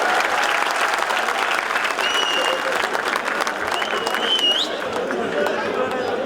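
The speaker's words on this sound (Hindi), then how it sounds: "उनके लिए तालियां बजाइए जब भी आएंगे" Audience applause at a Shakeel Siddiqui comedy show at an Eid Milan event in Dubai, sustained dense clapping from a large crowd filling the whole stretch, with a few whistles cutting through near the middle.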